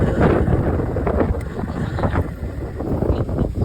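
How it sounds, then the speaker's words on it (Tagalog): Strong, hot wind buffets the microphone in a continuous low roar outdoors, with gusts swelling and easing in waves. "Sobrang hangin dito."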